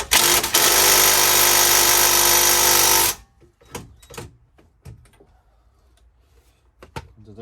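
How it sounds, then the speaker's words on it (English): An impact gun hammers loudly on the wheel nuts of a salvaged Fiat Panda for about three seconds, then stops, followed by sparse clanks and knocks of tools and a short burst of the gun. "What I do have is a bar and a gun, so I'm just going to double check them all"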